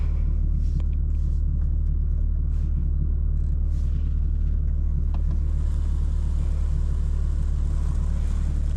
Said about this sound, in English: enjoy the ASMR, guys, of this touchless car wash at the dealership for free